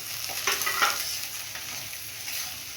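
Tomatoes and green chilies going into browned onions in a hot pan, a moderate close sizzle with brief stirring scrapes early on, then a steadier frying hiss, no voices.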